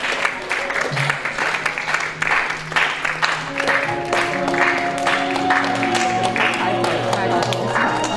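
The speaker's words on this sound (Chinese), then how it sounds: "那么再次来给一个热烈掌声，好不好？邀请他们入场。" Guests at a wedding clap steadily as the couple is invited into the ballroom, with sustained crowd applause under an emcee's voice and music.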